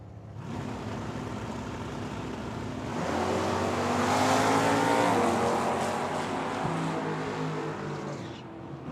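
Two drag cars, a 1979 Mustang and a 1980 Fairmont, roar off the line at a dragway, a loud sustained engine howl that swells and peaks mid-run, then fades slightly as they pull away.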